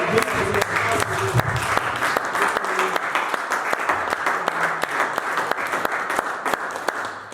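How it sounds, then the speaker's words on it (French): A church congregation bursts into loud sustained applause and cheering, with dense rapid clapping and raised voices that fill the whole stretch at close range. "Est-ce que tu peux acclamer très fort?"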